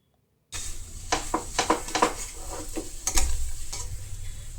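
Vegetables seasoned with salt, turmeric and green chili fry in a pan for vegetable chops, a steady close sizzle broken by a few louder scraping stirs, with no voice.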